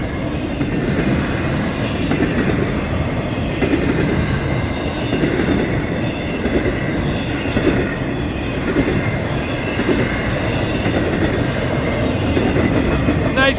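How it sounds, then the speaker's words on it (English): A long FECR freight train rolls past close by, a loud, continuous rumble of wheels and rail clatter holding steady from start to finish with no voices. "Big long train."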